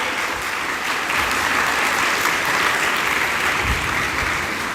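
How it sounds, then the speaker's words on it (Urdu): Church congregation at Sunday Holy Mass applauding loudly, a continuous dense wash of many hands clapping that holds at a steady level for several seconds, with no talking. "میں زوردار چاہتا ہوں تالیاں بجائیں اور خدا کا شکر ادا کریں۔"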